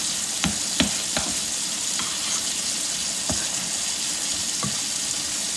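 Steady broadband rush of cold water running from a kitchen tap, continuous and fairly close, with a few faint clicks and knocks scattered through it.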